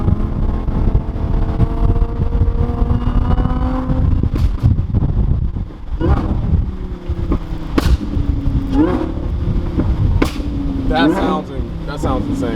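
A straight-piped Ferrari 599 with a valvetronic titanium exhaust revs loudly at a Cars and Coffee meet, a harsh, rising engine roar with sharp throttle blips, heard amid crowd noise and voices.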